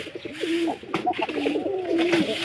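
Pigeons coo close by in soft, rolling throaty calls that repeat and overlap through the moment, with a pair of birds pairing up nearby.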